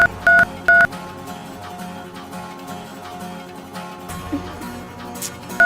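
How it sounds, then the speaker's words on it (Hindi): Telephone number dialed, a few sharp touch-tone beeps at the start followed by faint background music and murmur, a movie scene from the Bollywood romantic film B.A. Fail. "अब मैं अभी उनको फोन करता हूँ।"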